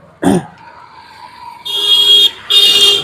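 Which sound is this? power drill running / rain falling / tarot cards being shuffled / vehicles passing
vehicles passing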